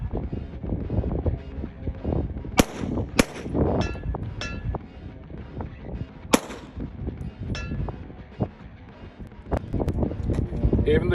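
A B&T APC9K Pro sub-compact firing at an outdoor range, sharp shots spaced out over steady wind noise and speech-like murmur, with some louder reports standing out from the rest.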